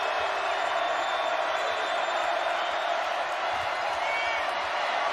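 A college basketball crowd at a Kansas Jayhawks game makes a steady, loud roar that fills the whole stretch without a break.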